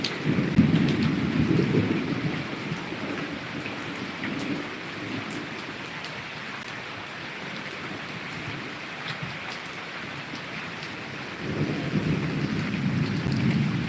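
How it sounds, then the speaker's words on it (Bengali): Heavy evening rain pours steadily onto trees and surfaces during a storm, with deep rolls of thunder at the start and again near the end; no voices. "বাট বৃষ্টি হচ্ছে"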